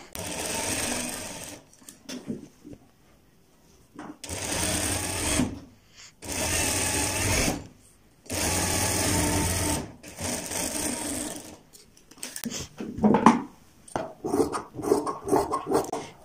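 An electric sewing machine stitches kurta fabric near buckram interfacing in close, loud runs of rapid whirring, separated by short pauses, followed by lighter handling and clicking toward the end.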